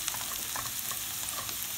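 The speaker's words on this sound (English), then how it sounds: "you're just frying it in oil" Soaked chickpeas fry in hot oil for Pakistani street channa, a steady close crackling sizzle with no talk.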